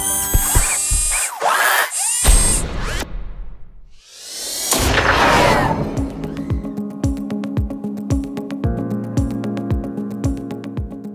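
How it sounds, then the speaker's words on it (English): Unior Plus Line tin snips cutting sanded sheet metal: loud metallic swishes and screeches at first, then a steady run of rhythmic clicking snips, close and alone. "The tin snips are an innovative and efficient solution for cutting sanded sheet metal professionally."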